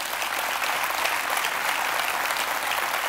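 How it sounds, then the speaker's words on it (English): A church congregation gives a hand clap to the Lord, a loud, sustained wave of many hands clapping at once, dense and even throughout with no speech on top. "Give the Lord a hand clap for that."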